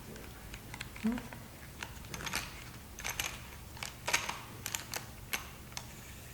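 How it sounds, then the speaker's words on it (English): Irregular light tapping and scratchy clicks, close by and fairly quiet, like chalk strokes on a board, with no talking. "Chalk makes a lovely sound."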